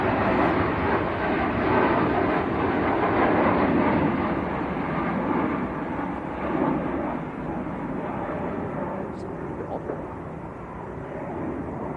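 A TUI jet departing Manchester Airport for Montego Bay on a windy day, its engines giving a steady, loud roar that swells and then slowly eases off across the clip, with no talking over it.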